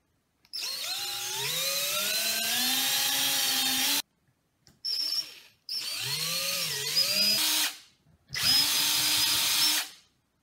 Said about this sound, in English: Make sure that when you're drilling, you drill straight.